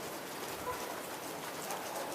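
Rain falls steadily, a soft, even hiss of drops on surfaces throughout, with a faint bird coo in the background.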